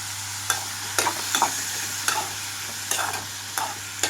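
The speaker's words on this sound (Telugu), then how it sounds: "బీరకాయ ముక్కలతో పాటుగా టమాటో కూడా వేస్తున్నాను." Ridge gourd pieces and tomato with a small piece of ginger are stirred in a pan, regular spatula scrapes and knocks every half second or so over a soft, steady sizzle, close by and without any talking.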